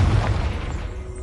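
The Confringo fire spell in the game Hogwarts Legacy bursts as a short, deep, booming explosion that fades quickly, with no voices over it.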